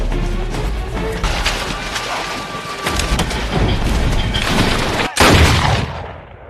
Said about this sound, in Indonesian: Afifa pun menembaki pria tersebut sehingga kini tak ada lagi yang mengejar mereka